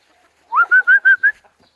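Chicken on a farm giving a short run of five clucks, a quick evenly spaced burst close to the listener in an otherwise quiet yard.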